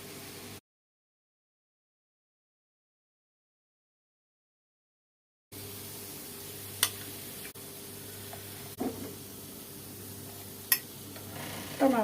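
Churros sizzling as they fry in hot oil, a steady close crackle after a stretch of silence, with a few sharp ticks and clinks from the pan.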